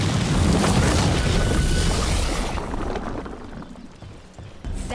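A loud, deep booming video game cannon blast in Dragon Age: The Veilguard, with a heavy rumble that slowly fades and trails off into a quieter, rough wash of noise.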